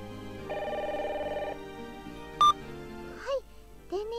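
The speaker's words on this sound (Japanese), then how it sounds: "おっと電話だ。" A telephone in a dating-sim video game rings with a synthetic electronic tone: repeated trilling pulses, then a pause and a sharp beep, followed by short rising chimes near the end.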